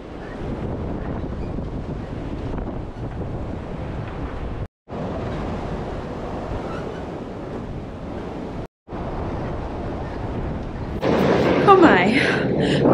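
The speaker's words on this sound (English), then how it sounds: "We're having a massive windstorm right now. It is crazy windy, like almost a blow over." Strong wind roars steadily through an outdoor goat homestead during a massive windstorm, loud continuous gusting and microphone buffeting with two brief cutouts, turning harsher and louder near the end.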